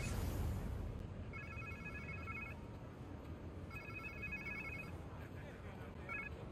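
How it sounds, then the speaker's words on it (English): A telephone rings in the Marvel's Spider-Man 2 video game, two bursts of a repeated electronic trill with a third starting at the end, moderately loud over a low ambient game background. "Sounds like somebody's phone."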